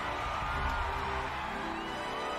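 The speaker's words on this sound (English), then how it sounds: "I love the way the crowd keeps chanting." A crowd chants together in a song from the animated film Sing, a dense wall of massed voices held steady throughout, loud and close, with a few pitched vocal lines rising above the roar.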